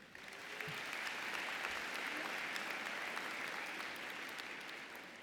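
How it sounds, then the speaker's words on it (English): Graduates at a spring commencement ceremony for a university business college break into a long, dense round of applause that swells quickly and holds steady throughout. "give yourselves the biggest round of applause yet"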